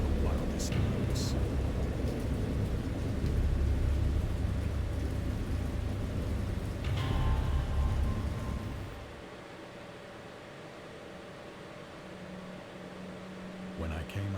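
Heavy rain pours down in a dense, loud roar with deep rumbles of thunder, then drops away after about nine seconds to a softer, quieter wash.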